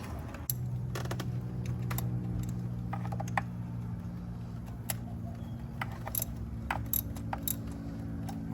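A spark plug being threaded by hand into a Ford V6 EcoBoost engine, with small scattered clicks and metallic ticks over a low steady hum, quiet and close.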